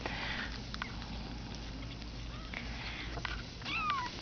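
A Bengal kitten from a brown spotted litter lets out a few high, drawn-out meows, the clearest near the end, over a steady low background hum with light rustling and no speech.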